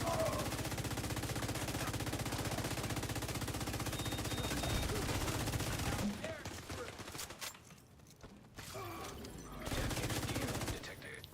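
Dense, rapid gunfire from The Division 2, a third-person looter shooter, rattles continuously for about six seconds, then thins into sparser, quieter shots before picking up again, with a voice talking over it.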